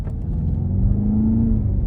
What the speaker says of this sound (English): that just accelerates so smoothly, and it sounds so nasty